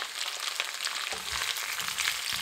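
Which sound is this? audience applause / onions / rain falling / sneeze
onions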